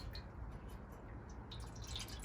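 Water trickles and drips into the water trough of a Coleman propane camping grill, a soft, close, continuous splashing with small droplet plinks.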